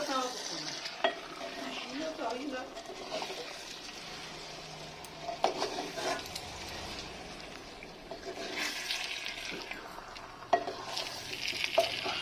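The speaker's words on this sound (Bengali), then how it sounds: "একটু ভালো করে নাড়িয়ে দিই।" Handi chicken stirred in a clay pot, with a spoon scraping and clinking through a steady low sizzle and intermittent louder scrapes and knocks.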